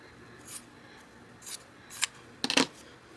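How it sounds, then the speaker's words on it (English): Scissors snip through material for a ghost wreath in four short, close cuts: single crisp snips spaced about half a second apart, then a quick double snip at the end, with near silence between them. "I'm going to cut this one underneath a little bit more on this side."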